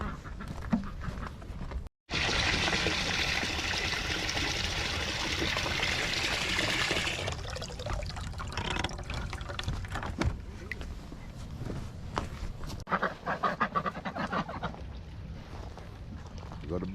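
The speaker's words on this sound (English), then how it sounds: "We'll get them some water, and that'll be it." A steady rush of water pours loudly for several seconds into a drinker for backyard ducks, then quacking, splashing and scattered clatter follow close by, with a voice speaking intermittently.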